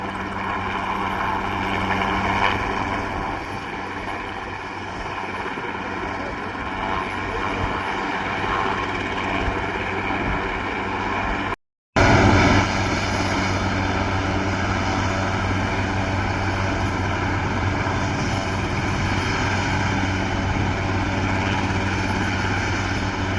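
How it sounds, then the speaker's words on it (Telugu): An army helicopter landing on a helipad during a trip to Ladakh gives a steady, loud rotor and engine drone. The sound holds throughout with one short dropout partway and no talking. "ల్యాండ్ అయిపోతూ ఉంది హెలికాప్టర్ అయితే."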